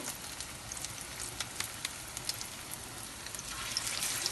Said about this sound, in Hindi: ऐसे डाल के फ्राई कर लेंगे और इसे हल्की आंच पे हम पहले फ्राई करेंगे